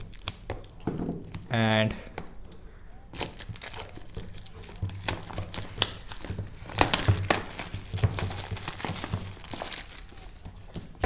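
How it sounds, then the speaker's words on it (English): Plastic wrap is pulled off an Infinix Hot 10 Play phone box, giving close crinkling and tearing with scattered sharp crackles. A brief spoken word and a rising tone come near the start. "So now let's quickly remove the plastic first."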